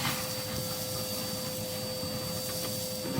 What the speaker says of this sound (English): So I'm just going to hoover that bit up there.